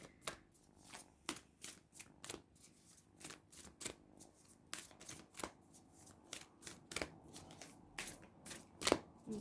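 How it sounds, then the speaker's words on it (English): Oracle cards from the Nature's Whispers deck are shuffled close up in a quiet room, giving a series of crisp, irregular riffling and slapping bursts. "Okay, so I'm going to take some oracle cards now. This is from the Nature's Whispers deck."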